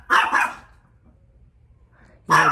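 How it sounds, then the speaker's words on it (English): A dog barks twice in quick succession at close range, falls quiet, then barks loudly again, heard outdoors during garden cleanup with no talking. "you heard the dog, so be careful of that"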